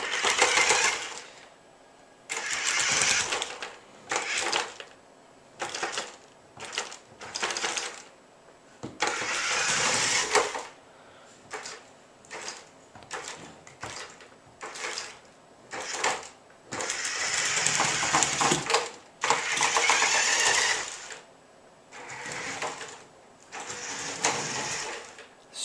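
Electric drive motors on a small robot chassis whir in repeated short bursts as it starts, moves and strafes, stopping and starting again in an uneven rhythm, close and fairly loud.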